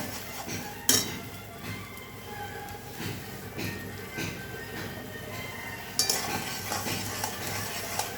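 Spice paste with turmeric being sautéed in a pan for mustard hilsa, with soft sizzling and stirring, plus a few sharp metallic clinks of a spoon against the pan.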